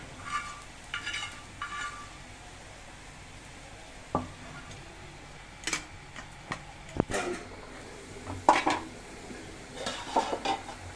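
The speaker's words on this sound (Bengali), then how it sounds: "এখন মাছ দিয়ে দেবো, সিম দিয়ে আলু দিয়ে।" Curry cooking in a pot with fish, flat beans and potatoes, giving scattered clinks of a utensil against the pot and soft stirring scrapes over a faint sizzle, with no talking.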